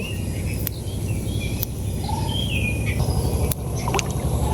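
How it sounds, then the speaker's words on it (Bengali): A trawler boat passes on the water, its engine a steady low droning rumble throughout, while birds chirp and call intermittently over the top. "ট্রলার যাইতেছে"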